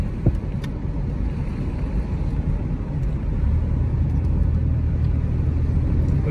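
An old Oldsmobile car drives along with a steady low engine rumble and road noise, close and fairly loud, the tone deepening slightly partway through.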